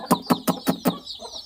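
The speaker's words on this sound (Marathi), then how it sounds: "ही आहे एक कोंबडी आणि इकडे एक कोंबडी मित्रांनो" A hen on a desi poultry farm gives five sharp, evenly spaced clucks in quick succession, close and clear, followed by a softer trailing murmur.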